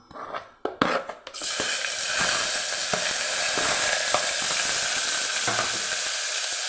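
Onion and green chilli dropped into hot oil in a pan for tomato rice, with a few clattering knocks at first and then a steady, loud sizzle.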